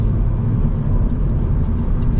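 A 2026 Honda Civic Si accelerating hard to overtake on an open road, heard from inside as a loud, steady engine rumble with road and wind noise, no talking.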